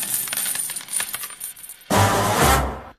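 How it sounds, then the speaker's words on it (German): A coin drops and rings, a run of bright metallic clinks and bounces followed by a louder, fuller ringing burst that fades out at the end, with no talking. "denn springend klingt die Münze."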